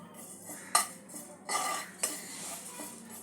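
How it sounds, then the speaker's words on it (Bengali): Cumin and fennel seeds dry roasting in a pan for besan kachori, with a spoon clinking and scraping against the metal in a few sharp strokes over a soft, steady background. "জিরে আর মৌরিটা ড্রাই রোস্ট করে নেব"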